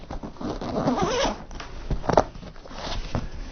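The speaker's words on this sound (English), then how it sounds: "where's that zipper?" A zipper on a drone backpack is pulled open close by, a short rasping run followed by a second quicker zip and some handling rustle.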